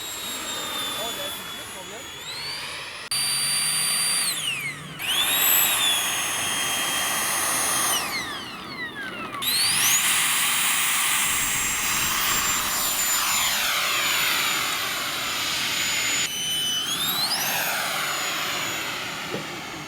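A 3D-printed RC Sea Harrier jet model makes a ground takeoff: a loud, steady turbine whine rises and sweeps in pitch, then thins out as the model passes and moves away, with brief cuts between shots.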